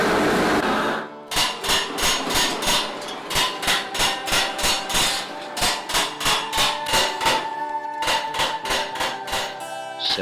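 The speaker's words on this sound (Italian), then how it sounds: "I colpi di martello induriscono il rame" Coppersmith's hammer striking a copper sheet to shape it, a long run of sharp, ringing metallic blows in a fast, steady rhythm, close and loud, following a brief burst of louder noise.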